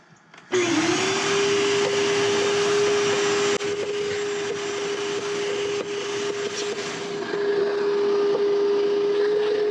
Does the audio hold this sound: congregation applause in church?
no